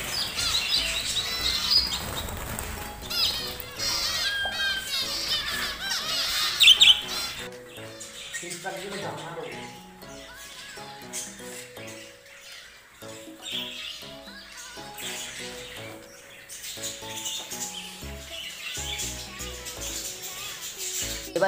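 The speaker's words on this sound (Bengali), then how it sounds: "দেখুন পাখিগুলো সব অ্যাডাল্ট ফিঞ্চ পাখি আছে।" Several adult finches, including white Bengalese finches, chirp and tweet in quick bright bursts, busy and close at first, then sparser calls over a tonal background with no talk.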